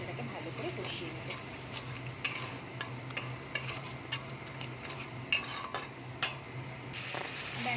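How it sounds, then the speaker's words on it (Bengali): Masala being stir-fried in a pan for a Bengali sankor fish curry, with a steady low sizzle and a scraping spatula clinking irregularly against the metal pan, close and moderately quiet. "এবার মশলাটাকে ভালো করে কষিয়ে নেব।"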